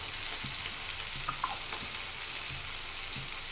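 Spices and tomato frying in a pan for country chicken sambar, a steady close sizzle with occasional soft stirring scrapes, no talk.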